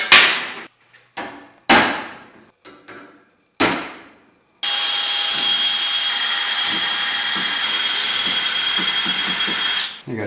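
A power drill bores a quarter-inch hole into a steel motorcycle frame rail on a 1958–1985 Shovelhead/Panhead hardtail, starting with several short bursts, then a long, steady, loud whine for several seconds before stopping.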